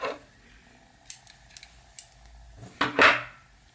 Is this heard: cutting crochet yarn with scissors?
yes